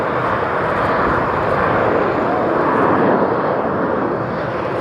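Passenger jet aircraft roar steadily overhead near JFK airport, a loud, broad, sustained engine rush that holds nearly constant with a slight swell in the middle, close and alone without talk.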